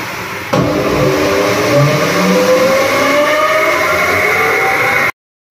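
A hydro extractor spins a full-size wet single-bed blanket, giving a loud, steady mechanical whir with a rising whine as it speeds up, then stopping abruptly near the end.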